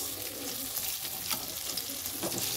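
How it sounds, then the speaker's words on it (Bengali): Sesame fritters frying in hot oil in a pan, with a steady close sizzle and soft scraping as they are stirred gently and turned, no talking. "দেখতেই পাচ্ছেন আস্তে আস্তে নাড়ছি আমি, নাহলে তিলের বড়াগুলো ভেঙে যেতে পারে।"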